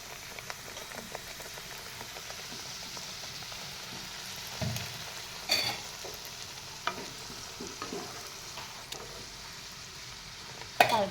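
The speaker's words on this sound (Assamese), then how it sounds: "এয়া তেলখিনি মোৰ ধুনীয়াকৈ গৰম হৈছে ইয়াতে মই এটা এটাকৈ বহুৱাই দিম" Coconut pitha frying in hot refined oil in a wok, a steady close sizzle and bubbling with occasional louder crackles and clinks.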